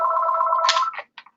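A telephone rings nearby with a loud electronic warble that holds steady for under a second, then breaks into a few short chirps before stopping.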